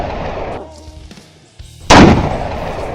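A single loud, close sniper rifle shot bursts out abruptly after a quieter stretch of faint rumble and shuffling, its blast ringing on to the end.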